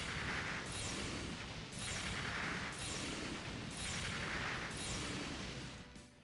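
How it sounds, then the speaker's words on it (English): Missiles launch repeatedly in the mech action game Gundam Breaker 4, loud whooshing bursts arriving at a steady rhythm about once a second, each with a hissing rush, with no talking. "They even sound like different missiles."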